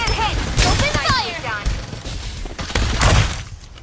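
Rapid gunfire bursts and impacts from the battle royale game Farlight 84 clatter loudly over synthetic game voice lines and in-game effects, with a few sharp shots in quick succession.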